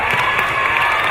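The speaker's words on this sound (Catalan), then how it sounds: "un fort aplaudiment i a la banda" A big crowd at a music school concert gives the band a loud, sustained round of applause mixed with cheering, dense and continuous throughout.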